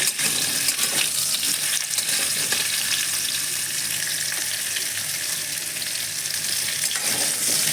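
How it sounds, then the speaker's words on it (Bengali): Cut pumpkin pieces fry in a hot pan, giving a steady, loud, continuous sizzle with faint scraping as they are stirred and turned, without any talking. "এখন এই ছেড়ে দিব কেটে রাখা কুমড়োগুলো দেখুন উলট পালট করে"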